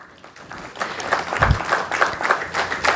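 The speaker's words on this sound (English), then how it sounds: "as we are in the act of clapping" Business excellence awards audience applauding in a hall: a steady, dense wash of many hands clapping that swells slightly and holds at a moderate, even level throughout.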